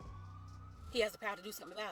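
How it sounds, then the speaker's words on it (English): Police sirens wail in the background of a street scene in Washington, DC, a steady tone at first, then continuing faintly beneath someone talking close by. "As you can hear the sirens going off in the background while she's talking"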